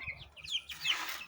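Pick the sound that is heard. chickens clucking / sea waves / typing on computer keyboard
chickens clucking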